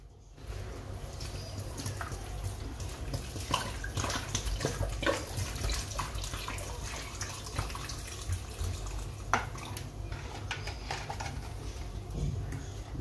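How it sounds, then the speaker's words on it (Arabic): Water pours steadily into a pot while Moroccan couscous is prepared, a soft continuous stream close by, with faint cooing of pigeons in the background. "دابا غادي نزيدوا الماء ديالو الكافي خاص الماء يدوز فوق منه كامل"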